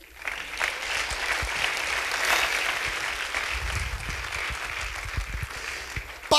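A church congregation claps in praise during a sermon, sustained applause swelling and holding through most of the stretch with some low thumps underneath, fairly distant.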